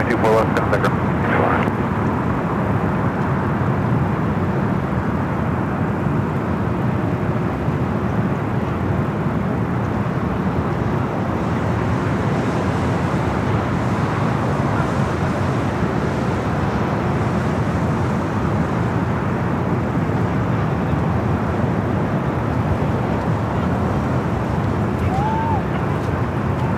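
Atlas Air cargo jet operated for Apex Logistics taking off from the south side at LAX, a loud broad engine roar holding steady throughout, with a voice talking over it at the start.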